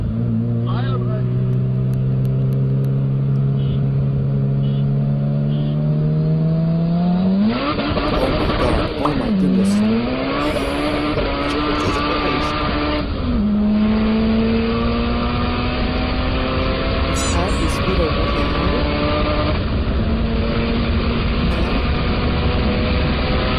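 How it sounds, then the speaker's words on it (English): A Honda Civic Type R engine revs hard through the gears, its pitch climbing steadily before VTEC kicks in with a sudden harder, higher-pitched scream. Repeated upshift drops and rising pulls follow, loud and close, with speech heard at times. "the biggest and most craziest VTEC kick-in ever"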